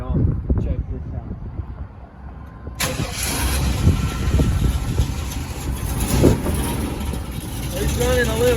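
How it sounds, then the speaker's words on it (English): A van engine cranks and catches on a new battery, then settles into a loud, slightly rough idle close by, with wind buffeting the microphone. "we're gonna see if this battery fires it up"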